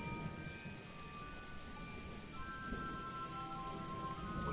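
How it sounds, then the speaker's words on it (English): Steady rain hiss from the video game Dwarf Fortress fills the clip, with a faint low rumble of game thunder underneath, plus a few thin electronic tones drifting over it. "Apparently it's thundering, or making a thundering noise anyway"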